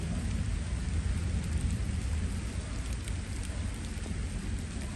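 Steady rain falling outdoors on a cold evening, a dense, unbroken hiss and patter with a deep low rumble underneath, loud and continuous with no voices.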